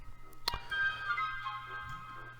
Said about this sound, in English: I do apologise, my phone is going off.